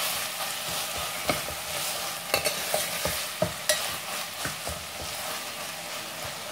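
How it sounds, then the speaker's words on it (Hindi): Minced mutton frying with softened onions in a pan: a steady broadband sizzle runs throughout, broken by repeated sharp scrapes and clinks of a spoon as the mince is stirred continuously, close and moderately loud with no talking. "और इसे भी हम भूनते जाएंगे लगातार।"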